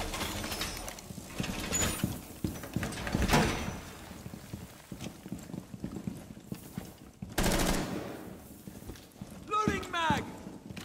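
Gunfire in Rainbow Six Siege comes as scattered sharp bursts and heavier volleys among footsteps and game noise, with a voice talking over parts of it.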